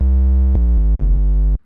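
A triangle-waveform synth bass played in Cubase sounds as a loud, clean, buzzy tone that steps through a few sustained pitches with a brief dip before the last note cuts off.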